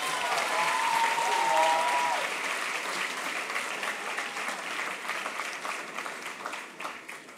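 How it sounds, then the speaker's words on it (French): Audience applause for the first speaker of the evening at a business school eloquence contest semi-final, a steady wash of many hands clapping that gradually thins and fades toward the end, with faint voices mixed in. "Je vous demande d'applaudir comme il se doit la première oratrice de la soirée, Madame Marie Plège."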